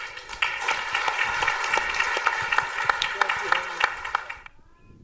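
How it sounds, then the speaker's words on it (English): An audience applauds speakers Dr. Mearsheimer and Dr. Niblett at a talk: dense, sustained clapping from a crowd with a voice over it, then a sudden drop to near silence near the end. "please let's thank them with a nice round of applause"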